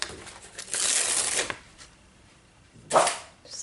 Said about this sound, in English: now I'm just going to peel it off my mat